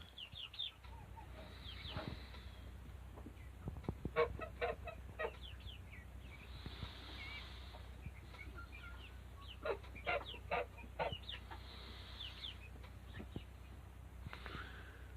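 Several chickens cluck and squawk in short bursts, fairly close, with an occasional louder call against a low steady background hum.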